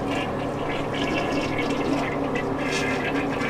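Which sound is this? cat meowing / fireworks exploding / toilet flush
toilet flush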